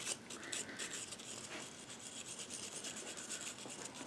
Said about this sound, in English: Grab it to clean that off. A wire brush at the very least.